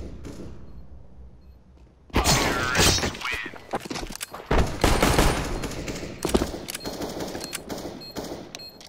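Rapid automatic gunfire in a competitive CS:GO match, with bursts of shots, sharp cracks and breaking impacts erupting loudly after a quiet opening and continuing densely to the end.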